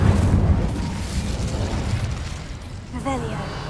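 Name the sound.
Incendio fire spell cast, Hogwarts Legacy video game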